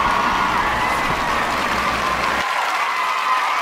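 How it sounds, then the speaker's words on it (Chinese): Loud, dense applause from a seminar audience welcoming a fried-food presenter, steady clapping throughout that thins slightly near the end. "掌声鼓励。"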